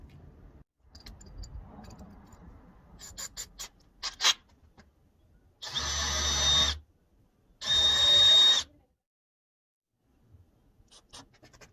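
A power drill drives 2.5-inch screws into a wooden hallway table in two loud, steady whirring bursts of about a second each, with lighter handling clicks and taps before and after.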